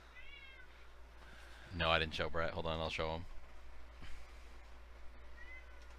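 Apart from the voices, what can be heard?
domestic cat meowing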